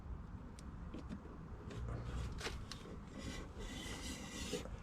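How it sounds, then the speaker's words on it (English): Disc brake pad rubbing against the brake disc, a faint, steady rasping scrape with brief brighter scuffs, heard alone without talk. "I don't know how much that's simply rubbing or if it's grinding"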